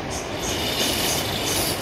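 A rail trolley cart rolls along jungle railway tracks in Peru, giving a loud, steady metallic rumble with faint squealing wheels and no talk.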